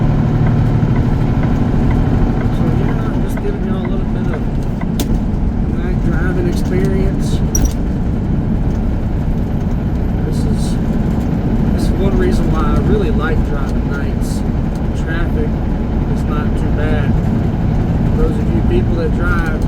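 Truck engine drones steadily through a night drive, a loud continuous low rumble with road noise, while someone talks over it.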